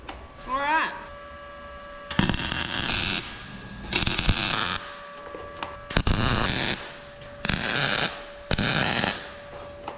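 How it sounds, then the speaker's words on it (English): Short bursts of welding crackle and buzz as a filler neck is joined to a mini bike fuel tank, five loud spells separated by quiet pauses, preceded by a brief sliding tone. "Let's get to welding."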